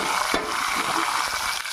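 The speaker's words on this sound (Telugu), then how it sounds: "అవి బాగా ఫ్రై చేసుకుందాం." Sliced onions, a green chili and tomato frying in hot oil crackle and sizzle steadily, with spoon stirring scrapes over the hiss, close up and continuous with no speech.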